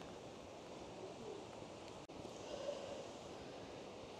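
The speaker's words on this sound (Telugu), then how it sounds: "వచ్చేసాం వాటర్ ఫాల్ లొకేషన్కి." Lumsdale Waterfalls in the Peak District pour in a steady, broadband rush of falling water, constant and fairly close, with no voices over it.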